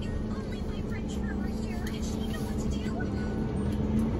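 A vehicle driving around a ro-ro port yard, a steady engine drone with a low hum, with faint chirps and clatter in the background and no one talking.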